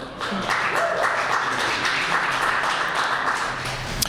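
A studio audience at a women's basketball coaches show gives sustained applause, a dense steady patter of clapping that runs evenly for several seconds.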